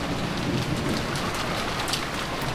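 Steady rain and wind in a stormy night scene, a dense constant wash of falling drops and gusting air with no voices over it.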